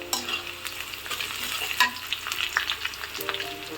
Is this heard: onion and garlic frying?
yes